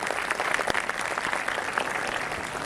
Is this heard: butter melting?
no